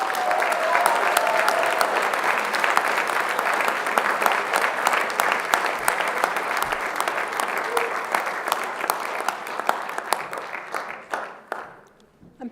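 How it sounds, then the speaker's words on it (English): Sustained crowd applause fills a hall at a college graduation ceremony, loud and even for about eleven seconds before fading away. "Let's have a final round of applause for Peter"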